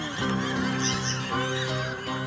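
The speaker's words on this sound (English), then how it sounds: "A bunch of seagulls going over." A flock of seagulls flying overhead gives a run of loud, nasal, overlapping calls, several cries in quick succession and fairly close, with no one talking.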